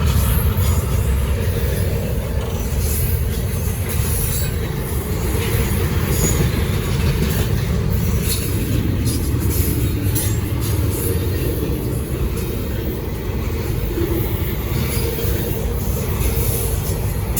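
A Norfolk Southern freight train rolls past near Gaffney, South Carolina, a loud continuous rumble of wheels and railcars with faint squealing and clacking, close and steady for the whole stretch.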